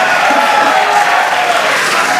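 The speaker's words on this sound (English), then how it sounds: "the crowd here in Hawthorne continuing to react to all these amazing views that we're getting" Crowd gathered in Hawthorne reacting to Starship flight views, a continuous loud wash of cheering and murmuring voices with no single voice standing out.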